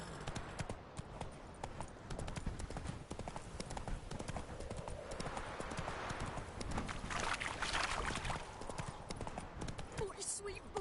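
Roach, a horse in The Witcher 3, gallops with fast, steady hoofbeats for the whole stretch, the thudding rhythm running beneath in-game voices speaking over it.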